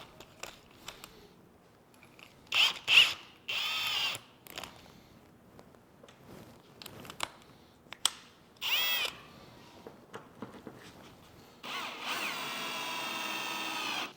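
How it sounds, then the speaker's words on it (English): A power drill whirs in short bursts of a few seconds each, separated by quiet pauses and small clicks, ending with a longer steady run. "Spare drill."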